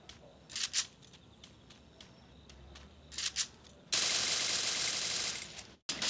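A few short bursts of gunfire in the video game Free Fire crack at a distance, then a loud sustained hiss-like roar of shooting cuts in and stops abruptly.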